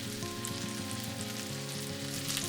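Hamburger steak searing in a Fissler stainless steel frying pan, a steady, close sizzle that runs without pause from start to finish under a faint background tone.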